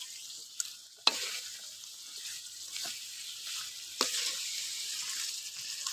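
Manchurian with tomato sauce sizzles in a pan as it is stirred, giving a steady close hiss with a few sharp scrapes and clacks of the spoon.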